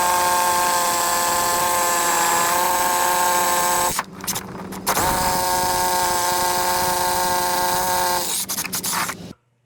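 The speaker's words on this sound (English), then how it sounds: "when you're drilling, the drill itself will do the work for you" A powerful electric drill with a fairly new bit bores a hole for PVC conduit, whining loudly and steadily, pausing briefly midway, then resuming before cutting off abruptly at the end.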